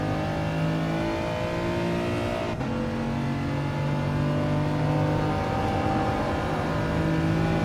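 A BMW M4 engine in Gran Turismo Sport revs hard and steadily for several seconds, its harmonic drone loud and close, with a brief dip partway through before it climbs again.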